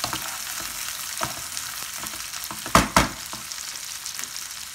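Boiled peas being mixed in a frying pan over a steady hiss of sizzling oil, with scattered spoon scrapes and two sharper knocks near the end, close and moderately loud.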